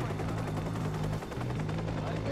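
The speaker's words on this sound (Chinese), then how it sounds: "直升机要弄掉，该死了，这怎么弄啊？" A helicopter in the Watch Dogs video game gives off a steady, low rotor drone with a faint, constant hum, quiet and continuous for a couple of seconds.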